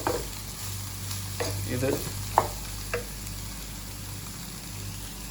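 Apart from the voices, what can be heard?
stirring okra frying in a pan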